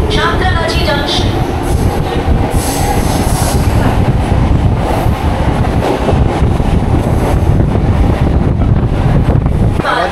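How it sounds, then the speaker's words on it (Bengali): A local train on the Digha–Howrah line pulls out of Andul station: a loud, continuous rumble of wheels and carriages with heavy wind buffeting throughout, and no pause across the whole stretch. "আমাদের ট্রেন ছেড়ে দিল আন্দুল"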